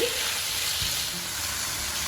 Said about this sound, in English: While it's frying